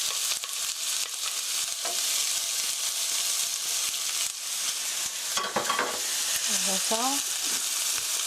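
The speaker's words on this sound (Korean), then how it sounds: "stir fry 5 minutes 5분간 볶아주세요" Chopped onion and garlic stir-fry in a pan with a constant bright sizzle and occasional spatula scrapes, a voice speaking briefly near the end.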